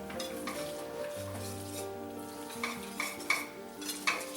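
A whisk stirs a roux in a pot for chicken pot pie, soft steady scraping with a low sizzle and a few light clinks against the pan, quiet and close.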